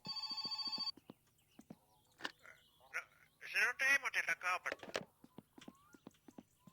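A telephone in the video game My Summer Car gives a short burst of rapid electronic ringing, then falls quiet. Sharp clicks like footsteps and a few brief louder noises follow.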